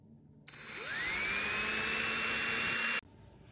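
A small drill spins a 1.5 millimeter bit into a metal post of a Matchbox Cadillac Sixty Special model, a high whine that ramps up in pitch and holds steady for about two and a half seconds before stopping abruptly.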